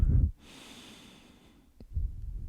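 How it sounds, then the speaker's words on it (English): A deep inhaled breath drawn through the nose during a yoga class, a steady airy rush lasting over a second, close and alone, framed by quiet talk before and after. "take a deep breath in"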